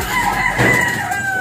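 A gamefowl rooster crows loud and close in one sustained, wavering call across the whole moment, with a brief rougher burst in the middle.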